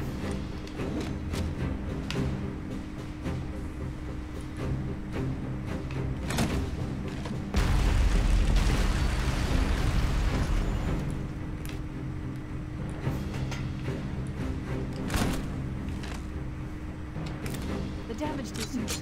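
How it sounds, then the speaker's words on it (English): A heavy, roaring explosion bursts out midway through a busy stretch of Halo: Combat Evolved Anniversary game noise, with scattered thuds and voices talking around it. "So many explosions."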